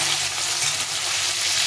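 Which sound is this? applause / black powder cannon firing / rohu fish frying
rohu fish frying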